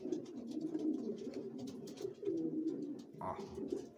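Breeding pigeons in a loft coo continuously, a close, soft, rolling drone of overlapping coos with faint flutters and clicks, no talking.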